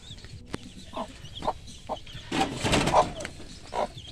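Small chick that hatched from an egg only a day earlier, giving several short, close peeping calls scattered through the moment, with soft rustling and handling noise between them.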